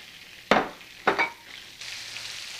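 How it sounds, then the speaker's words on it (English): Shrimp sauteing in frothy olive oil in a pan, with two sharp bursts of sizzling and stirring as they go in, then a steady soft frying hiss that continues to the end. "We'll add the shrimp and saute the shrimp."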